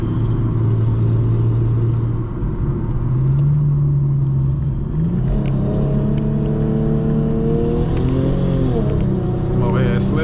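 A BMW Z1 fitted with long tube intakes accelerates hard with its tires slipping, a loud, steady engine drone that climbs in pitch partway through, close by and continuous.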